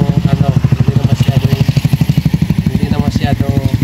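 A motorcycle engine putters in a fast, steady chugging rhythm, loud and close throughout, with no talk over it; the motorcycle is carrying riders on the way to a clinic.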